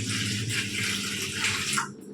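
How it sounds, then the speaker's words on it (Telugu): Water pours from a small vessel into an unwashed bowl coated with maida flour, a continuous splashing gush up close that cuts off near the end, with no talk. "నీళ్ళు పోస్తున్నాను కదా,"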